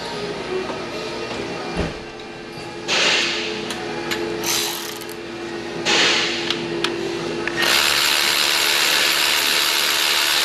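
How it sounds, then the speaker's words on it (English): A ratchet works loose the 14 mm lower alternator bolt on a Hyundai Palisade, giving several bursts of fast clicking pawl under a steady mechanical hum, loud and close. "let's remove the lower bolt"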